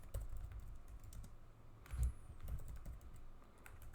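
Steady, quiet clicking of fingers typing on a computer keyboard, with rapid irregular keystrokes continuing throughout.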